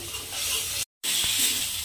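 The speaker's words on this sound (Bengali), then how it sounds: "মশলাটা আমার ভালোভাবে কষানো হয়ে গেছে।" Spice masala being stir-fried in a pan for papad kalia gives a steady hiss of sizzling oil with stirring scrapes, broken by a brief moment of silence before the frying resumes.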